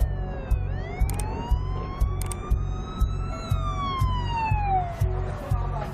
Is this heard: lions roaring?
no